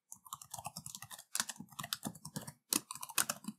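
Quick, close bursts of computer keyboard typing while writing JavaScript code, with rapid clattering keystrokes broken by short pauses, clear and alone.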